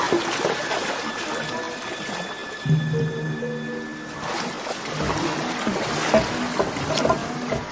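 A ship moves through water, with a steady broadband wash and churn running throughout, a few low tonal hums beneath, and brief louder swells in the middle and toward the end.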